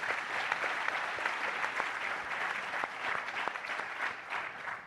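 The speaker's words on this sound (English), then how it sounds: "You can see what you have done by the response to this powerful applause, James." Audience applause in a conference hall at a green hydrogen summit in Cape Town, steady crowd clapping with distinct close claps scattered through it, moderately loud and unbroken by speech.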